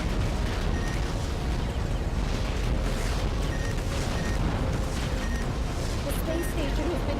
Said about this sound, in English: The space station has been destroyed.